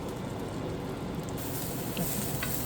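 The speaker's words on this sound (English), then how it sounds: "we're going to let them fry up a little bit" Eggplant slices fry in a pan with a soft, steady sizzle and crackle, fairly faint and continuous, brightening slightly partway through.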